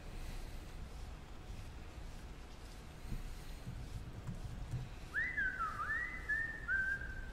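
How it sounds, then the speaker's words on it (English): A short whistled tune plays as a character sound in World of Warcraft Classic: a few clear rising and falling notes come in near the end over quiet background hiss, with no speech. "I like the whistling sounds when you say you're bored."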